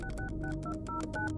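A phone call being dialed: a rapid series of short two-tone keypad beeps in a steady rhythm, fairly quiet over a low background hum.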